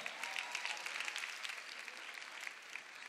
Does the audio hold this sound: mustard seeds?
no